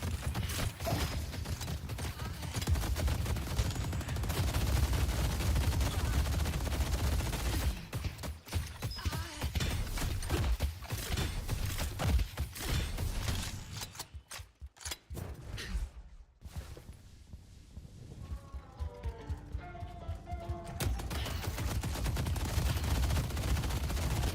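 A deployed turret in a mech combat game fires sustained rapid bursts, loud and dense, mixed with mechanical clatter and other battle noise, dropping off briefly before the barrage resumes.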